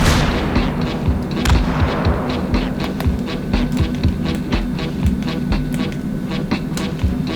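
Repeated booming shots from a rocket launcher with a built-in scope in the VR game H3VR, loud and close, in a dense stream of sharp blasts over a steady rumbling background.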